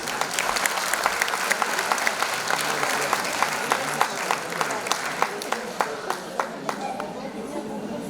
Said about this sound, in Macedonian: Ќе замолам за аплауз.